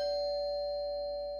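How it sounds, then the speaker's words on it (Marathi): A doorbell rings inside a home, a steady electronic chime tone sustained for over a second and slowly fading, with no voices. "अरे ढणा बेल वाजते"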